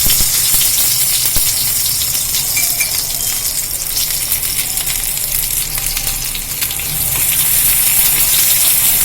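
A steady, dense sizzle of chopped onions frying in hot oil, constant throughout with faint crackles and no talking.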